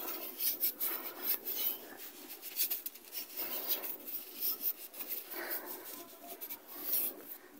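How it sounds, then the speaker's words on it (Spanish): Paper towel rubbing and wiping along the edge of a 1998 Voyager 3.3 engine's crankshaft seal area, a soft, close scraping that comes in repeated short strokes. "con un poquito de papel, le voy a limpiar bien la orilla"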